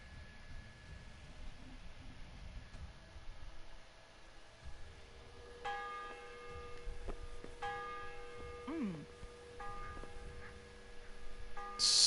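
Church bell ringing out in Kingdom Come: Deliverance, a medieval game setting; steady, resonant tolls begin partway through and repeat with long ringing decay over a quiet ambient bed, with no talk.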